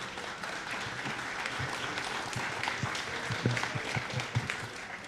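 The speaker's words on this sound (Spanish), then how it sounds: "Muchas gracias, un aplauso." Audience applause at a book launch for a novel: dense, steady clapping from a crowd that fills about five seconds at an even, moderate level.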